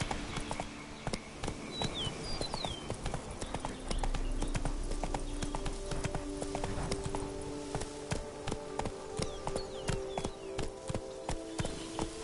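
Horse hooves clip-clop in a steady galloping rhythm in The Witcher 3 video game, close and prominent over continuous game ambience and music, with no talking.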